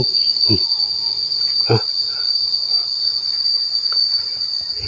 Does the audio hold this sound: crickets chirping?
yes